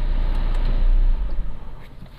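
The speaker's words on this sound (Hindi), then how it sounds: "and now the car is completely of, there it goes" An Audi A6 shuts off with the ignition, a low steady engine rumble that cuts out partway through, leaving a brief fading settle.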